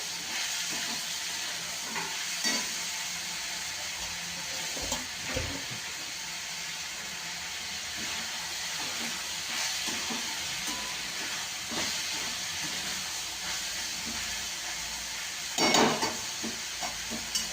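Mixed winter vegetables for bhogi bhaji hiss and crackle in a pan, with occasional soft stirring scrapes and a louder clatter late on, a constant close frying sound with no voices.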